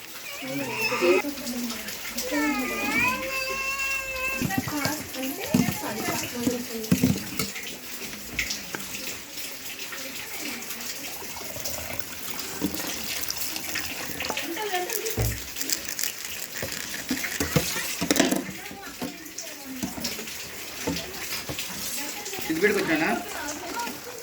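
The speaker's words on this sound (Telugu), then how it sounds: "వర్షం పడుతూనే ఉంది కంటిన్యూస్గా." Steady rain falls continuously outdoors, a constant broadband hiss with louder gusty stretches, while several people talk and laugh over it throughout.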